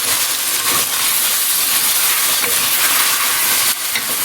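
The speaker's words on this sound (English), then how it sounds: "And it's still sauteing, which is good." Zucchini sautéing in a pan gives a loud, steady, close-up sizzling hiss that holds without pause.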